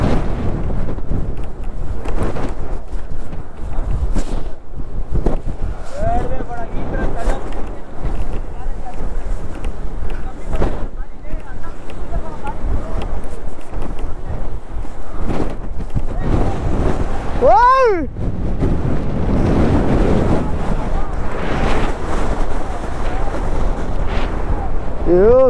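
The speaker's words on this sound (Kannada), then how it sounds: "ಗಾಳಿ ನಮ್ಮನ್ನ ಹಂಗೆ ತಳ್ತಾ ಇದೆ." Strong wind near Munnar, Kerala roars and buffets the microphone in heavy, continuous gusts, close and loud, with brief bursts of voices and a short whistling tone partway through.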